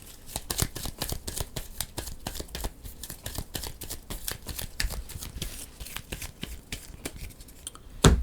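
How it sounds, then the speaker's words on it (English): A deck of board game cards being shuffled by hand, a quick run of crisp riffling clicks and flicks, close and fairly quiet, ending with a louder knock. "And then we'll shuffle their deck up."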